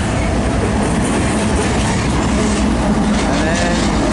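A freight train passes close by at a rail junction with a loud, unbroken rumble, rattling cars and wheel clatter throughout.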